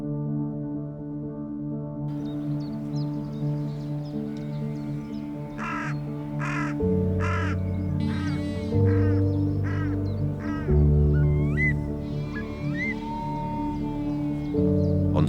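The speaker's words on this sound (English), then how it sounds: "On seeing and hearing the crow, it calls to its partner to alert it of the potential danger" A carrion crow caws near a Eurasian curlew nest, a series of loud harsh calls in a burst, set over a steady background drone.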